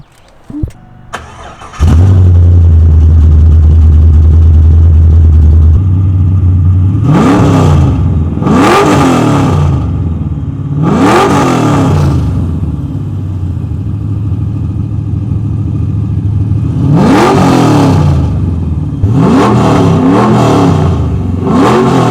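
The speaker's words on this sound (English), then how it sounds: "So because of some of the modifications and the exhaust work, it sounds really good." A 2001 Chevrolet Camaro SS with a modified exhaust starts up, idles with a deep rumble, then is revved hard several times in quick bursts, loud and close.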